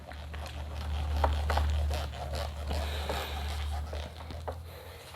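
Writing is erased from a board with short, scratchy rubbing strokes in a quick back-and-forth rhythm, close and fairly quiet over a steady low hum.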